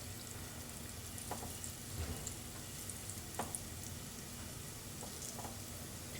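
Dahi vada lentil fritters frying in oil in a kadhai over a medium gas flame give a steady, soft sizzle with scattered small pops and crackles throughout.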